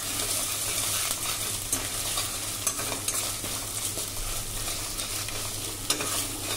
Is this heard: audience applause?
no